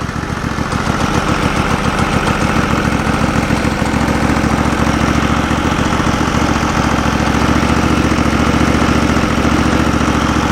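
A Norwood LumberMate portable band sawmill's gas engine idles close by, a steady, loud, pulsing rumble that holds evenly throughout with no talk.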